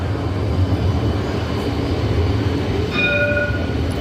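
A train rumbles steadily along the tracks on Jaffa Road in Jerusalem, close and loud, with a brief horn tone sounding near the end.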